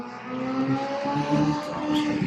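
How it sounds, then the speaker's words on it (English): Steady traffic from a busy main road fills the background with engine hum and passing vehicles, a continuous mid-level rumble with some revving tones and no talking. "Sorry about the noise. We're on the main road here."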